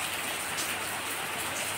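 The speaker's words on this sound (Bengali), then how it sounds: "টিপটিপ করে বৃষ্টি হচ্ছে।" Light drizzle falls steadily on a surface early in the morning under a clear, cloudless sky, with a soft continuous patter of fine raindrops and no voices.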